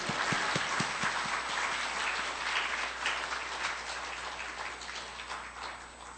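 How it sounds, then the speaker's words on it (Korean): A church congregation applauding to welcome the pastor, a broad wash of many hands clapping that holds steady and then slowly fades, with a few distinct claps close by at the start. "이제 우리 목사님 나오실 때 큰 소리로 할렐루야 하시면서 박수 치면서 환영하고 오시도록 합시다"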